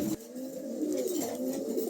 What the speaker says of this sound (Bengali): খুবই চমৎকার একদম একজোড়া কবুতর একদম নতুন নিউ এডাল